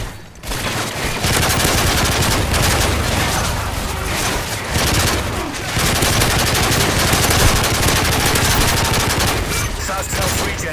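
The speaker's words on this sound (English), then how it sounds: "Sentry gun." A sentry gun fires in Call of Duty Modern Warfare 3, sustained loud automatic bursts with brief pauses, dense and close, with other combat noise blended in.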